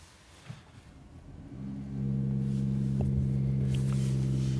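A Mercedes-AMG E53 Coupé engine cranks and catches after a quiet moment, then settles into a deep, steady, rumbling idle heard close from inside the cabin.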